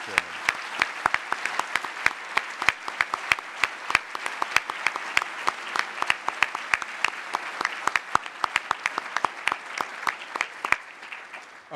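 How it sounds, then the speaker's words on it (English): Audience at a foreign policy discussion event applauds for a chairman, a thin round of distinct, individually audible claps at moderate distance that tapers off toward the end. "If we could get a round of applause, please, for our second chairman."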